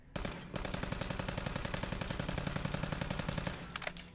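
Rapid automatic gunfire from a service rifle in Fallout 4 with a New Vegas mod, a steady close, loud stream of shots for several seconds with a short break near the start, ending in a few clattering sounds.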